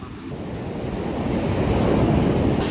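Sea waves wash steadily onto a beach with wind buffeting the microphone, a continuous broad rushing surf that swells slightly louder toward the end, no voices.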